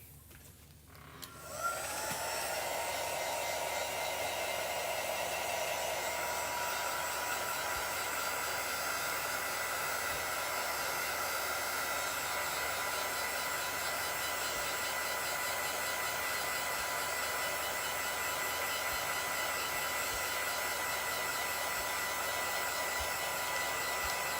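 A hair dryer switches on and blows over wet chalk paste on a Chalk Couture project, a loud, steady whooshing roar with a faint whine that starts after a moment and continues unbroken, close up and without talk.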